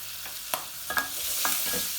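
Green chillies for a pickle sizzle steadily in a hot pan while a spoon stirs them, with a few sharp scraping knocks against the metal and no talk.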